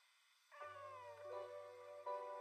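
Several cats meow in a cat-filled spot, drawn-out tonal cries that rise and bend, fairly close and clear, with a low steady hum underneath and a fresh meow at the end.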